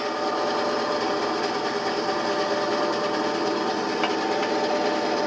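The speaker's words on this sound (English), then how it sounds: "Come on, bandsaw, we only need a couple more cuts." A bandsaw cuts through aluminum stock while fabricating motor controller mounts, giving a steady, continuous grinding whine at constant loudness for the whole stretch, close by with no talking.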